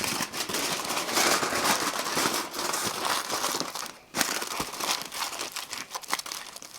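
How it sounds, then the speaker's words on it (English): Tin foil crinkles and crumples continuously as it is wrapped around a haggis for a barbecue, a close, dense rustling with brief sharp crackles and one short pause midway. "what we're going to do is just wrap the haggis in tin foil"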